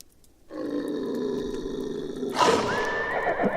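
Spooked horses neigh loudly in the video game Sang Froid, a long grunting whinny followed by a sharper, rising neigh close by, with no talk over it.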